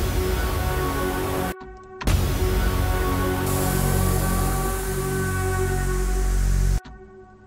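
A music track break built from a loud broadband impact that washes into a dense swelling noise effect with a sinking downlifter sweep, cut off abruptly with brief silences around it, no voices.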